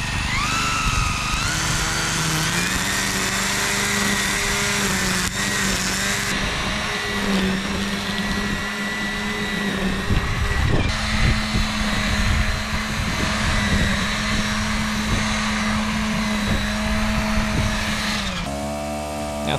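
A petrol lawn mower runs close by with a continuous droning engine note that shifts in pitch as the load changes, then cuts out near the end.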